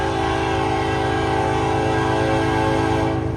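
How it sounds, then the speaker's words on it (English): A Canadian National locomotive leading a train sounds a loud, sustained horn chord nearby, steady and unbroken over the rumble of the train passing. "I haven't seen a Canadian National locomotive in eons"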